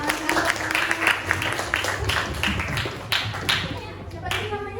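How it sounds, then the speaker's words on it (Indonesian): An audience at an information session claps in a room, with a burst of crisp, uneven hand claps from a small group. A voice talks over the clapping. "Tepuk tangan."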